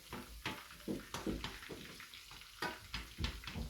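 A schnitzel frying in a pan: a steady close sizzle and crackle with repeated bursts of spitting oil, fairly quiet and continuous, with no talking over it.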